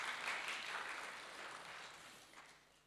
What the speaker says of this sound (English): can we carry on clapping for Mona